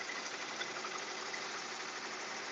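An embroidery machine stitching, heard as a continuous, even mechanical whir with a fast rapid-fire needle chatter, steady and moderately close with no pauses.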